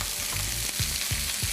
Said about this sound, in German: Jetzt würde ich den Salat anbraten.